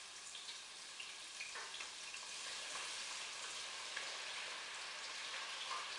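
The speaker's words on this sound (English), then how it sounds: "we're going to just start placing our Yuca chips into the oil" Yuca chips placed into hot oil give off a steady, close sizzle and crackle of frying that holds through the whole stretch, with no talking.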